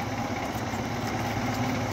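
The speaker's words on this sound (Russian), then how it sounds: "Мотор, я вижу, стоит дизельный." A diesel engine drives an oil pumpjack on farmland, a steady, close, loud idling drone with a low, continuous rumble and no breaks.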